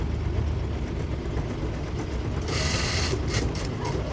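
Sewing machine stitching pleats on a pair of pants, a steady mechanical whirring and rattling with a brighter, busier burst of stitching toward the end.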